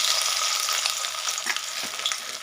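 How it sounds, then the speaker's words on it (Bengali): Soybean chunks fry in hot oil, added a few at a time, giving a loud, close, continuous sizzle with light spatter and stirring, and no voices. "তেল গরম হয়ে গেছে, এবার আমি সয়াবিনগুলো অল্প অল্প করে দিয়ে ভেজে নেব তেলের মধ্যে"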